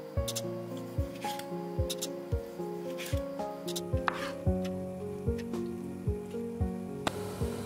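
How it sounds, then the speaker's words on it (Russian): Raw chicken being sliced into small thin pieces with a knife on a cutting board, with regular sharp chopping knocks about once a second over a low background hum. "Курицу нарезаем небольшими пластинками."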